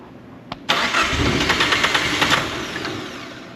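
Deep Orange 3 car, not run in over ten years, cranks over briefly then fires and catches into a loud, steady idle with rhythmic pulses under a background hiss.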